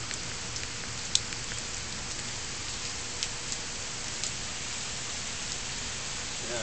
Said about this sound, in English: The rain's starting again.